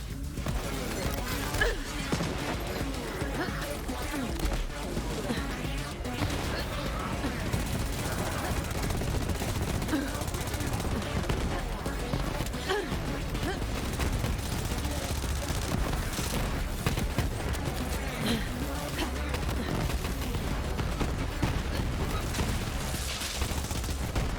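Grenade explosions and rapid gunfire in the Borderlands 3 video game, a dense continuous barrage of bursts and booms at loud, steady intensity throughout, with voices talking over the battle.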